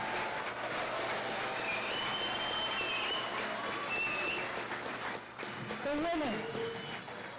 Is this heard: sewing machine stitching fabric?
no